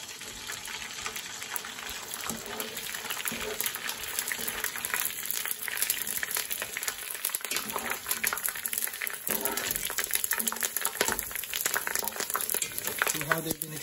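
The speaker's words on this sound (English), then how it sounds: "Okay, now we're gonna start frying them." Pork skin for Filipino-style chicharron fries in hot oil, a continuous close crackling sizzle that builds and stays dense, with light bubbling throughout.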